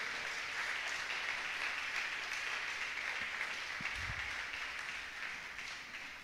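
Congregation at a church service giving a sustained round of applause, dense steady clapping filling the room and fading slightly at the end, with a brief low murmur partway through.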